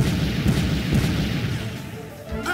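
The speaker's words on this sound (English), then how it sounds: "Just shoot them. Fire Glyde missiles." Missiles launch and explode in the Mega Man Legends 2 video game, a continuous rumble of booming blasts with several heavier hits, loud and steady across the whole moment.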